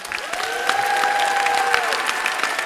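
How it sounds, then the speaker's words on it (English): Audience applause and light cheering for 3rd and 4th grade students after a school spring musical, a steady dense roar of clapping with a faint sustained tone running underneath. "how about one more round of applause for 3rd and 4th grade students?"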